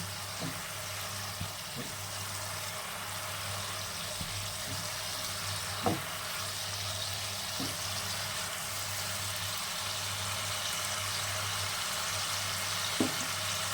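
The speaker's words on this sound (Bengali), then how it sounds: "জল দিয়ে মশলাটা ভালো করে কষিয়ে নেব" Spice paste for a small bhola fish curry with poppy seed sizzles steadily in a pan with water added, a soft continuous frying hiss broken by a few faint clicks and taps.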